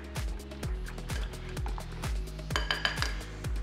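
A whisk or spoon rhythmically beats melted chocolate and half a tonka bean in a bowl, a steady series of close clinking strokes about every half second, with no talk.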